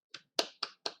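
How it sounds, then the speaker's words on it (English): Four sharp hand claps close by, the first lighter and the next three quick and evenly spaced within one second, each with a brief ringing decay. "I didn't mean to clap"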